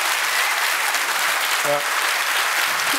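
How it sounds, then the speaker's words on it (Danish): Audience at a medical conference opening debate claps steadily throughout, a dense even applause with a brief spoken interjection partway through. "I behøver ikke at klappe hver gang, der bliver sagt noget enige."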